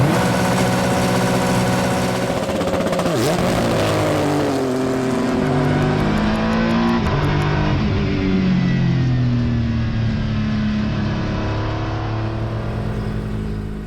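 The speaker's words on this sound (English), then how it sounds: "build up the revs all the way to red line" A loud Acura NSX GT3 race car engine close by, climbing in pitch as the revs build to the rev limiter, then holding high and wavering before easing back, with no voices.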